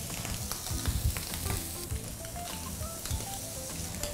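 Scallops with olive oil and a couple of butter cubes sizzle steadily in a frying pan, a continuous close frying hiss with occasional soft pan clinks.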